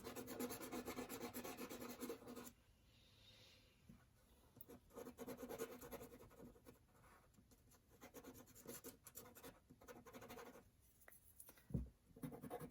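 White charcoal pencil shaded across black paper, often with the side of the lead, giving close, quiet, continuous rubbing and scratching strokes in uneven bursts with no speech.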